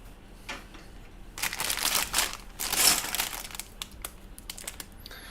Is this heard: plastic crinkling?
yes